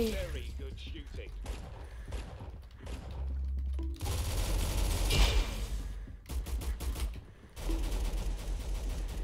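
Rapid automatic gunfire fills a match of the Roblox game Arsenal, with repeated bursts and single shots at close range, a loud peak near the middle and several sharp breaks; game sounds play throughout.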